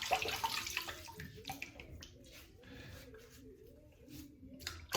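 A tap runs water during a straight razor shave to wet the whiskers, giving a faint, uneven trickle and splashing with small wet squishes and drips, close but quiet and without talk.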